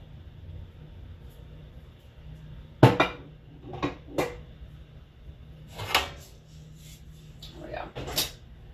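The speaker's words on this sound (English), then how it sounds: "a lot of my extra silverware, larger silverware, goes over here" Silverware and larger utensils clatter into a kitchen drawer in a handful of sharp, scattered metallic clinks and knocks, close by over a low steady background hum.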